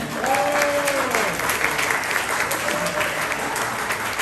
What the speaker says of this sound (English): Everybody, a round of applause for celebrating Miguel today